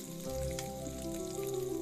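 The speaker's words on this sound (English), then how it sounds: "The bacon's done. Yep. Stop sizzling." Bacon sizzles and fries in a Minecraft game, a steady crackling hiss with a low background hum, continuous and fairly loud throughout.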